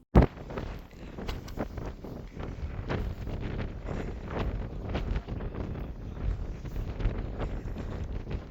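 Wind buffets the microphone on Mount Bulusaraung during the search for a crashed ATR aircraft, a loud, continuous rushing roar with gusty swells and no talk.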